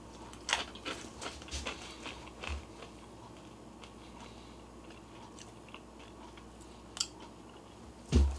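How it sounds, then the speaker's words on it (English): Close, crisp crunching from someone chewing crunchy puffed Skittles candy, coming in irregular bursts of bites with quieter pauses between, and no speech. "And these are crunchy."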